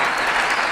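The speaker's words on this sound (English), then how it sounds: "the audience is applauding for John Lennox" An audience at a debate involving John Lennox applauds in steady, dense clapping that fills a brief moment at a consistent, moderately loud level.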